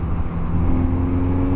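Kawasaki Z900RS motorcycle engine pulling steadily in sixth gear at low revs, a continuous loud low rumble with a rising whine, close and alone without talk.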